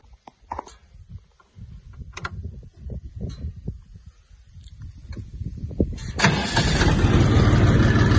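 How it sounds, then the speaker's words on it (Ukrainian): A Jinma 3244 tractor engine chugs in its lowest gear with uneven low knocking, then grows louder and rougher near the end as it revs up. "Ми зараз подивимося, як же він рухається на самій пониженій швидкості."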